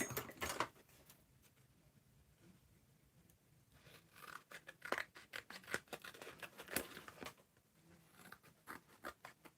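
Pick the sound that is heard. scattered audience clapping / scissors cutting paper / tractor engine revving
scissors cutting paper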